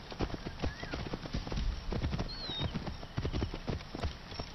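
Hooves of a horse galloping in Assassin's Creed Origins, a fast steady clip-clop rhythm close by, with brief whinnies and faint distant shouts mixed in.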